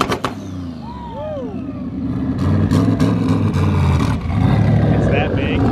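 A stage 3 catless Subaru WRX with a Tomei exhaust drones loudly and steadily close by, its engine note rising and falling, while people talk over it.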